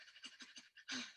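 Rapid fire-breath exercise during a qigong and taijiquan session: a quick series of sharp nasal exhales in a steady rhythm, ending in one longer forceful breath, close and fairly soft.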